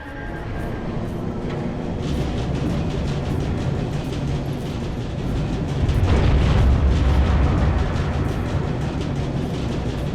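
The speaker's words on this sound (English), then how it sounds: "I heard an explosion." A sustained, rumbling explosion in the video game Captain America: Super Soldier, a dense roar that swells louder around the middle before settling into continued heavy rumble, with no talk.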